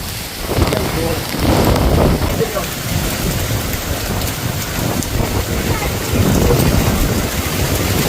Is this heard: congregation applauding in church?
no